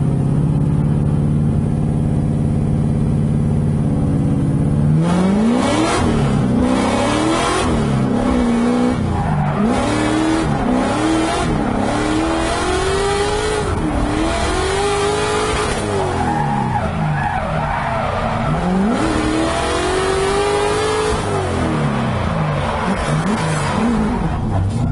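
A supercharged, LS-swapped 650 whp BMW E36 sedan drifts held in third gear, its V8 roaring and rising and falling in pitch over continuous loud tire squeal and skidding.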